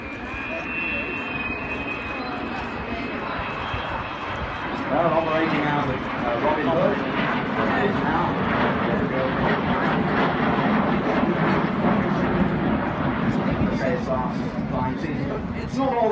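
An Avro Vulcan bomber, XH558, flying at the Blackpool Air Show 2015 makes a loud, sustained jet roar that swells after a few seconds and holds steady. Someone talks over it the whole time.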